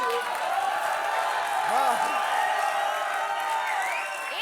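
Studio audience clapping and cheering on a comedy show, a continuous full crowd sound under a brief spoken word, with a few whoops rising near the middle and the end.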